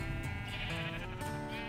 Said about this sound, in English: sheep are just so cute